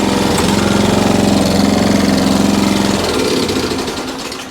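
A Qualcast Suffolk Punch 14SK cylinder mower's petrol engine runs steadily at a close, loud idle with a low rhythmic chug, easing off and fading slightly over the last second or so.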